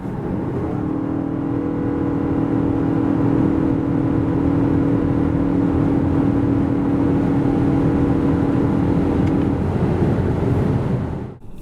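A Toyota RAV4 2.5 hybrid accelerating hard from 90 to 140 km/h, its engine holding a steady, sustained drone over continuous road and wind noise for about ten seconds, with no talking.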